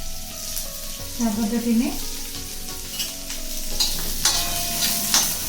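Chopped onion sizzles steadily in hot oil in a home kitchen while an eggplant bharit is being made, with a spoon scraping the pan now and then and someone speaking briefly over it.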